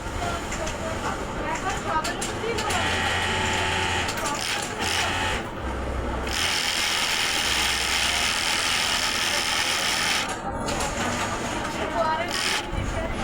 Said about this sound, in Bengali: মেশিনের তো স্পিড আছে মেশিনে মেশিনের মতো চলবে